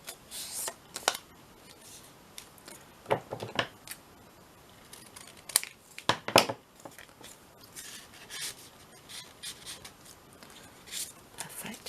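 Sheets of paper folded in half while a journal is assembled, heard as soft crinkling and sharp creasing rustles in short irregular bursts, close by and fairly quiet.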